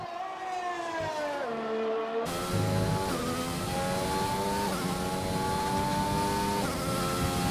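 In a racing video game, a Formula 1 car's engine wails loudly and close up, with rising and falling revs through gear shifts and a surge after a brief lull, continuous throughout without talk.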